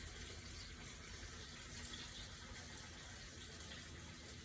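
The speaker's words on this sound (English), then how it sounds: "And so I'll add some water." Water poured into a cooking pot while making ginisang monggo, a steady faint rushing stream running continuously for several seconds, with no talk.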